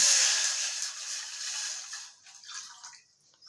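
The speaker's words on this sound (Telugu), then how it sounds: "మనకు కావాల్సిన వాటర్ వేసేసుకున్నాం." Water pours steadily into a pot of semiya payasam with cashews, a bright splashing stream that gradually thins and trails off into a few faint trickles.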